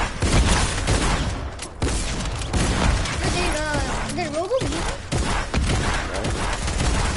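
Fortnite gunfire: repeated sharp shots and bursts throughout, loud and close, mixed with game effects and a brief voice-like tone in the middle.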